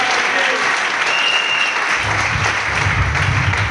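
A church congregation applauds and cheers during a fasting and prayer service, dense steady clapping filling the room at close range, with a low murmur of voices rising beneath it in the second half.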